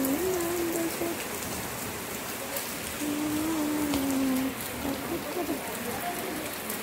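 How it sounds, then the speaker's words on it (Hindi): Steady heavy rain hisses across the whole clip, with a person's voice occasionally rising above the downpour. "शाम के साथ और बहुत तेज बारिश हो रही है।"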